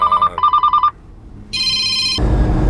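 Telephone ringtone sounding in repeated bursts: a sequence of short tonal pulses, a pause, then a higher sustained electronic ring that gives way to louder broadband noise near the end, close and clear with no talk.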